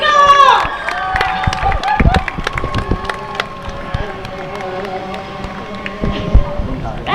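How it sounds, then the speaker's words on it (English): A crowd cheers at the Bullring at Las Vegas Motor Speedway during a Super Late Models race, a loud rising roar at first that fades into sustained background noise with scattered claps and voices. "That was quite a cheer."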